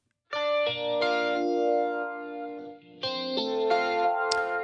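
Three direct-recorded guitars, high-pass filtered and panned across the stereo field, play sustained chords with chorus and distortion-like effects, two long phrases separated by a brief dip, up close with no voices.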